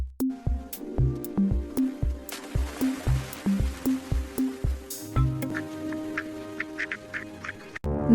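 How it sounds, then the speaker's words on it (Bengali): Cartoon ducks quack in a quick regular series of loud nasal calls, roughly a dozen in a row, followed by lighter chirpy peeps and dripping splashes from ducklings in a Bangla animated story about a clever duck and a fox. "আনন্দে প্যাক প্যাক করছে।"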